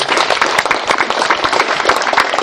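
Fundraiser lunch crowd in Westlake Village applauding the Galgleys, a loud, close burst of many hands clapping with sharp individual claps standing out in an uneven, continuous patter, no voices over it.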